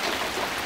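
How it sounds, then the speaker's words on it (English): Hail falls outdoors in a steady, dense patter of small hits, close and continuous, with no voices. "and that's when it starts to hail."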